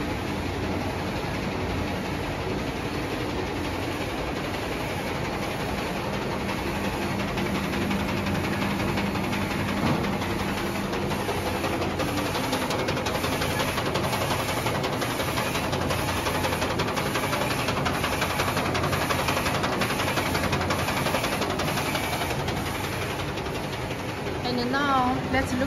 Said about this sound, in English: This is a smoke purifying machine.